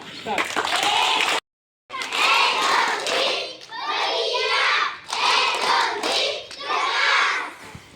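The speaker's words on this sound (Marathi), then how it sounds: "टाळी मोठ्याने वाजवायची आणि व्यवस्थित जोरात टाळी झाली पाहिजे" A school audience claps loudly and continuously in several sustained bursts with a brief silent gap, busy and close, with children's voices mixed in.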